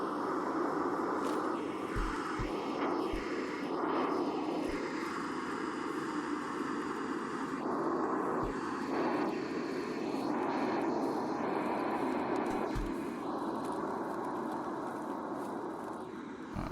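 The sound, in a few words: airdrop plane flying over, from video game Escape from Tarkov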